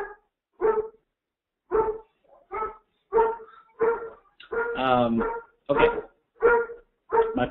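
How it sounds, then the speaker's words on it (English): Pet poodles bark in a string of sharp, evenly spaced yaps, loud and close, with one longer whining bark midway and a brief spoken word. "My poodles will stop barking in a second."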